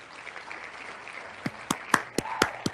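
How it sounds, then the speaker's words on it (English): A few sharp, separate hand claps ring out over a murmur of background noise, spaced unevenly in a short burst. "Yeah, it's clapping."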